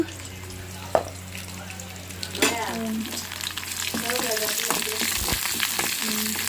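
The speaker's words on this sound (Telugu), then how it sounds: "బాగా ఫ్రై చేసేసుకున్నాం" Oil sizzles steadily as small punugulu fritters fry, with a few sharp clinks and stirring scrapes over a low constant hum.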